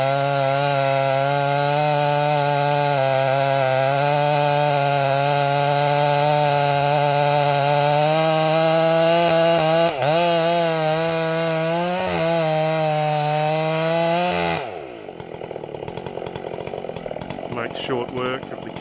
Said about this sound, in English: old Snellerised saws working in Australia.